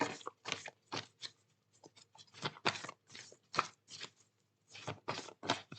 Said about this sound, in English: this is a huge deck, and I've got small hands, so this is really hard to shuffle